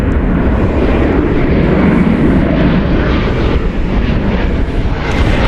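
An airliner arriving from Doha at Dallas/Fort Worth Airport roars loudly and steadily with broad jet engine rumble, close and continuous.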